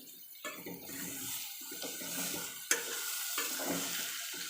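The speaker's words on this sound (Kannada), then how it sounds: "ಈ ಥರ ಮಿಕ್ಸ್ ಮಾಡ್ಕೋಬೇಕು ಚೆನ್ನಾಗಿ" A spoon stirs and mixes a pan of cooking rice with a soft sizzle beneath, giving repeated close scraping strokes and one sharp knock partway through, with no voices.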